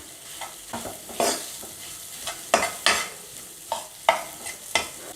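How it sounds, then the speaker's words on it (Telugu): Boiled potatoes being mashed into masala with a spoon in a hot pan: repeated firm scraping, pressing strokes at an irregular rhythm over a faint sizzle, close and fairly loud, with no talk. "క్రష్ చేసుకున్నప్పుడు ఇలా స్పూన్ తోటి గట్టిగా ఇలా మెదిపేసుకోండి"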